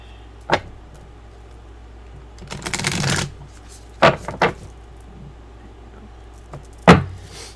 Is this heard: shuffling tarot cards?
yes